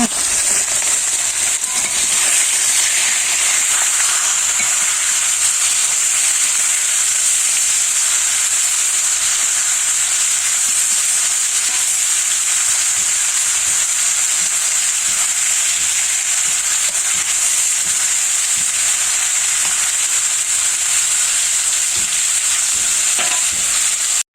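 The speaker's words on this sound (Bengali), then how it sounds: "মাছ ভাজা হয়ে গেছে" Fish frying in a pan at home, a loud, continuous sizzle and crackle of hot oil that stays close and steady throughout without pause.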